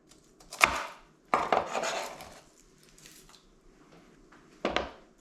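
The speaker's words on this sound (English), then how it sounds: "half an onion and the skin, a whole bulb of garlic, and just chop that up" Half an onion with its skin and a whole garlic bulb chopped with a knife in a kitchen: a few sharp, separate cuts against a board, with short bursts of rustling and scraping in between.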